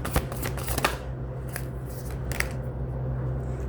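Oracle cards being shuffled by hand, a few quick papery riffles and flicks in short bursts over a steady low background hum, close to the microphone, with no speech.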